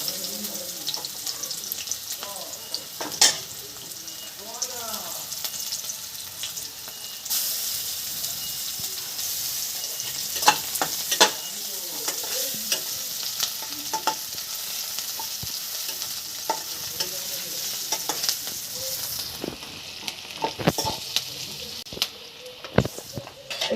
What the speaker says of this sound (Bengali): এই যে পেঁয়াজটা লাল লাল হয়ে গেছে, এবার রসুনটা দিয়ে দিলাম।